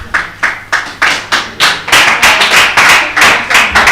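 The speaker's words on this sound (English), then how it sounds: "Another round of applause for the last speaker, please." Audience applause for a speaker at a live class event, a steady run of sharp, close hand claps that builds into fuller clapping, loud and without talk.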